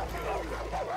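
A dog in the video game Far Cry New Dawn gives a short, close yipping bark that blends into a whimpering growl, heard over steady game background noise.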